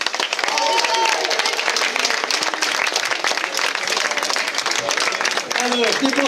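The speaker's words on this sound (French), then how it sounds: "je vous propose qu'on les applaudisse." A crowd applauds the parade giants at a Belgian ducasse in Maffle, with sustained, dense clapping and cheering and voices mixed in throughout.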